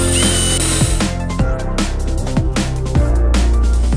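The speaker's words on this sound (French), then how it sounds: "Les vis qui sont embutées, on vient le visser pareil en haut." A power drill drives screws into solar panel mounting brackets on a tiled roof, the motor whining loud and close in short repeated bursts as its pitch rises and drops.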